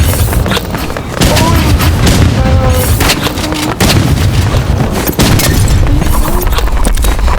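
Gunfire and explosions from the online shooter game Rivals, with dense, loud booms and shots running almost continuously and a few brief tonal game sounds mixed in.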